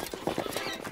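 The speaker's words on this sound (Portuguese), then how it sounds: "Um cavalo correu até a bebê." Hooves of a running horse clip-clopping in a quick, even rhythm, close and moderately loud, with a faint voice-like squeal mixed in.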